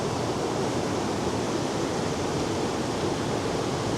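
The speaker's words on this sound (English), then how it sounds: "just behind me is a waterfall" A steady, dense roar of rushing water from a waterfall near Cát Cát Village in Sa Pa, Vietnam, fills the whole clip, constant and loud with no variation.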